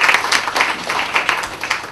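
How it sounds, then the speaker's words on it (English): An audience applauds steadily at a bookstore evening event, dense close clapping with a loud, even wash of hand claps throughout the short burst. "Let's all put up a big round of applause for Lockett."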